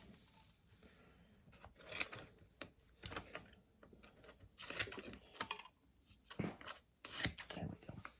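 Scissors snip through blue tape while building a model canard for a Mystere 3000, several short crisp cuts close by amid light handling noises and some talk.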